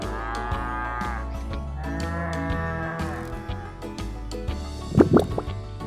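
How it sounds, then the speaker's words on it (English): Cow mooing on a farm in a children's tractor cartoon, two long drawn-out moos close and loud, followed by a dripping, liquid sound. "It's a cow."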